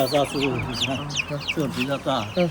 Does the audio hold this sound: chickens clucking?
yes